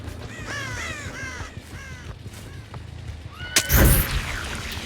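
Crow caws ring out several times in quick harsh bursts inside the survival horror game Dead by Daylight, fairly clear over a low ambient bed, then a loud burst of noise breaks in near the end.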